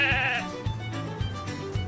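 Sheep bleating in a farming life game, one clear wavering bleat up front followed by soft rhythmic thumps, close and fairly loud with no talk.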